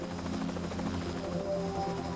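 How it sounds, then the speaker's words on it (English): A police helicopter flies overhead with a continuous, pulsing rotor chop and engine whine, steady and fairly loud throughout. "The helicopter is able to cover greater distances in less time than ground units"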